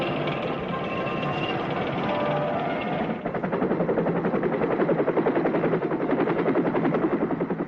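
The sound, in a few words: light aircraft spraying pesticide over farmland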